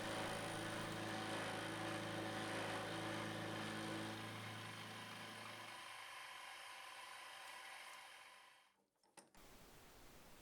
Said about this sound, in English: my little hobby lathe doesn't have a power crossfeed, so I've got to do this bit by the hand